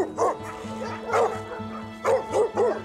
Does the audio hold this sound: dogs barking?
yes